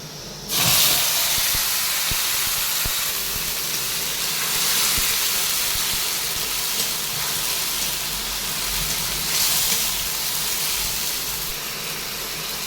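Ground spice paste hitting hot oil in a pan for a home-style fish curry, a loud sudden burst of dense sizzling hiss that carries on steadily close up without fading.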